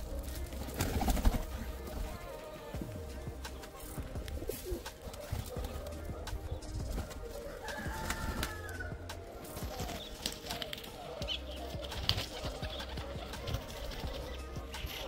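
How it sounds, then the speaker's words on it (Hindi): Pigeons coo softly inside a pigeon loft amid a steady background hum, with scattered rustles and flutters from the birds nearby. "तो अब जल्दी से कबूतर खोलते हैं।"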